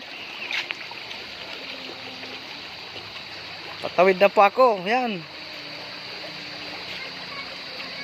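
A river flows with a steady hiss in the background as a person speaks briefly over it.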